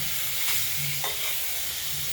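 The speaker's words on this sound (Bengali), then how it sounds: "এই গরম তেলের মধ্যে আমরা মাছগুলো চার পিস মাছ রুই মাছ আমরা ভেজে" Four pieces of rohu fish rubbed with salt and turmeric fry in hot oil in a wok, giving a continuous, even sizzle with a couple of brief stirring scrapes.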